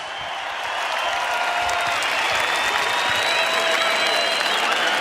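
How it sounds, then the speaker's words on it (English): A large arena crowd in Dublin applauds both boxers after a ten-round professional bout, a loud, dense roar of clapping and cheering that swells in the first second and then holds steady with whistles above it. "let's get a nice round of applause out here for both of these fighters"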